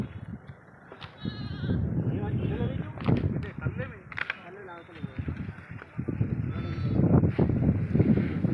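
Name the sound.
goats bleating near Manjira dam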